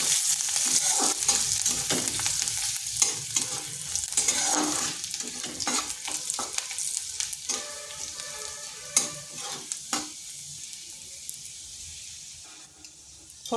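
Garlic pieces and panch phoron spices frying in hot oil for a papaya and dal dish, a steady close sizzle with repeated scraping stirs of a spoon through the pan, no talking.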